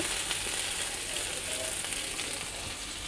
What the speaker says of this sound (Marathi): जी आता वरची बाजू आहे ती खालच्या बाजूने व्यवस्थित अशीच लालसर रंगावर भाजून घेऊ